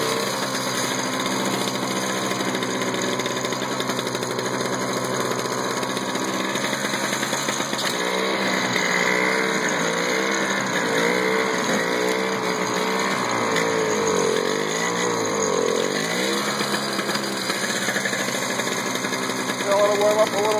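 A Toro snowblower's small engine runs steadily and loudly outdoors on a mild late-winter day, a continuous droning rumble with slight shifts in pitch throughout.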